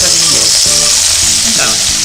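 Soy sauce hitting a hot frying pan used for hamburg steak, giving a loud, dense, continuous hiss that stays close and steady throughout, with faint clinks beneath.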